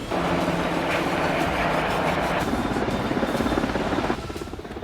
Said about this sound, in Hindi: यह है अगस्टा वेस्टलैंड का EH-101 हेलीकॉप्टर, जिससे कमांडो एक जंगी जहाज पर उतर रहे हैं।